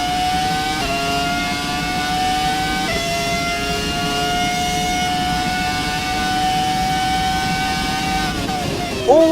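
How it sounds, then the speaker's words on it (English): A roaring V10 engine of an older Formula 1 car in the F1 2017 racing game, held at a loud, steady high-pitched whine with brief shifts, then a quick downshift near the end. "The one with the roaring V10 engine."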